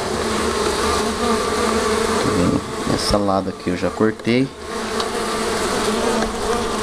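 Uruçu boca de renda stingless bees buzz steadily at an open hive being divided, a dense continuous drone throughout, with someone speaking briefly over it midway.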